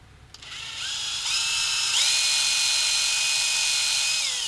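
A power drill whines steadily, its pitch rising in steps as it spins up and bores into aluminum, loud and close with no voices.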